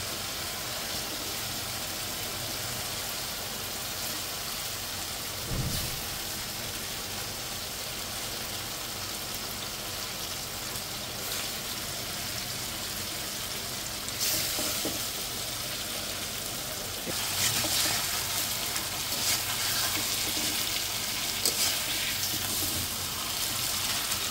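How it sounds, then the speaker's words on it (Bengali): Hilsa fish frying in mustard masala and oil, a steady broadband sizzle that holds evenly throughout, with a few sharp clatters and a brief louder crackling burst near the end. "মশলাটার ভিতরে তেল ছেড়ে দিচ্ছে, এখন মাছগুলো দিয়ে দেবো।"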